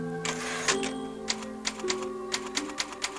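Typewriter keys clacking in the video game Resident Evil 4, a steady run of sharp individual strikes at a moderate pace, with a carriage-like ding and music underneath, no talk.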